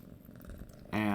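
A cat purrs close by in a steady rumbling burst near the end, after a person's speech.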